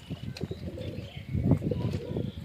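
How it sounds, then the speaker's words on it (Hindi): Pigeons cooing and calling as they land after a long flight, with soft bird vocalizations and some rustling, moderately near under light ambient noise. "मैंने आपको ब्लॉग में नहीं दिखाया कि 3 घंटे के बाद उतर रहे कबूतर"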